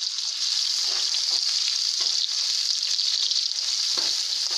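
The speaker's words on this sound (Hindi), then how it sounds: "तेल अच्छी तरह गर्म हो गया और मैंने प्याज डाल दिए" Sliced onions fry in well-heated oil for a chicken biryani, a loud, steady, close sizzle with brief stirring scrapes and no talking.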